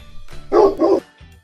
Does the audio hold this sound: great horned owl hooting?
no